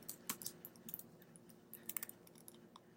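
Quiet, scattered keystrokes on a computer keyboard, irregular clicks with short pauses, close but faint, as a terminal command is typed.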